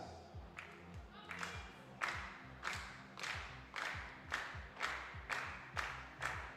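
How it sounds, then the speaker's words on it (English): A crowd at a 50m three-positions rifle shooting final in Osijek, Croatia, clapping in a steady rhythmic beat of roughly two claps a second, fairly loud and sustained, with a low rhythmic thumping underneath. "Always good when the crowd get involved, make themselves known."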